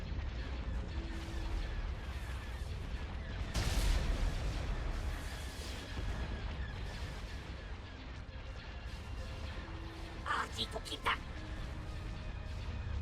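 Heavy laser cannon fire in a Star Wars space battle game, with a dense, continuous rumble and a strong blast near the middle, a few sharper bursts later, and a voice talking over it.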